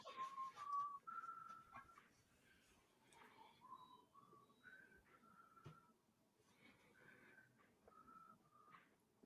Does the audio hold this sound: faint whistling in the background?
yes